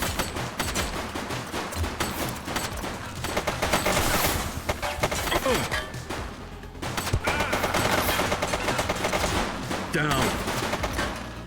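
Dense gunfire from The Precinct video game, rapid overlapping shots and bursts in a sustained fusillade with brief pauses, loud and close, with a voice shouting briefly over it.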